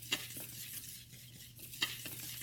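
A spoon stirring dry baking soda, baking powder and spices together in a bowl for pumpkin bread, a soft continuous gritty scraping with a couple of sharp taps against the bowl, close and quiet.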